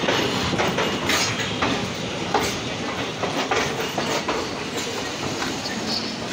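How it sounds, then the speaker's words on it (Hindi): Shramjeevi Superfast Express pulling out of New Delhi station platform 8, with loud rolling wheel noise and steady clickety-clack over rail joints, close and continuous, a few brighter squeals and thumps on top. "और यहाँ पे हमारा 3 मिनट की डिले से डिपार्चर होता हुआ प्लेटफॉर्म नंबर 8 से।"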